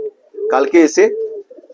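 A white fantail pigeon coos close by in a loft, a short burst of a few throaty, warbling notes.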